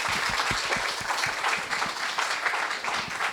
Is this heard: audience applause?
yes